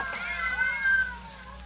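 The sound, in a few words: several cats meowing, radio drama effect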